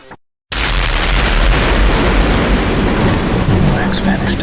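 An explosion sound effect in a narrated story, a sudden loud blast after a short silence that rolls into a sustained rumbling roar lasting several seconds.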